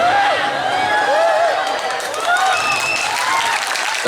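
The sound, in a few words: crowd applauding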